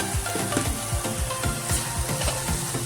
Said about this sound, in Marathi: हळद भाजून घेतली की छान लागते